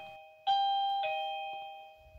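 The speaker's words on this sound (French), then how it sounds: "j'appuie sur le bouton d'appel de la sonnette" A J7 Plus wireless smart video doorbell chime rings out after its call button is pressed: two clear, bright electronic ding-dong tones with long ringing decay, close and alone, followed by a faint click near the end.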